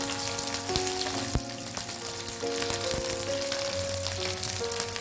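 Chopped green chilies and onion sauté with a continuous, close hiss in a pan for a Kerala-style chutney, with occasional clinks and scrapes of a spoon and a faint tonal hum underneath.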